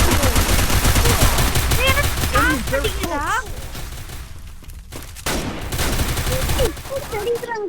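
Gunfire in an online shooter video game, a dense burst of rapid automatic shots at the start, then scattered shots and game effects mixed with lively chatter from players.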